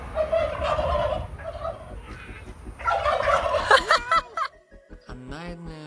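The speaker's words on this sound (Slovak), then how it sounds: "Gang moriakov." A flock of turkeys gobbling nearby in loud, rapid bursts, several birds calling over one another, followed by a few separate gobbles toward the end, with no talk.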